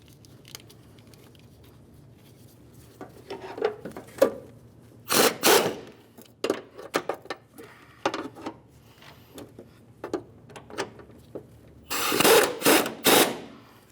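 Bolts on a 2002-2009 Chevrolet Trailblazer upper control arm being tightened with a hand wrench, a run of short mechanical clicks and rattles in separate bursts, close and fairly loud, with a longer dense burst near the end.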